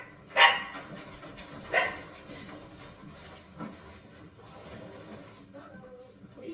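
A dog gives a couple of sharp, close barks in quick succession followed by softer yips and whimpers, with quiet background noise between them.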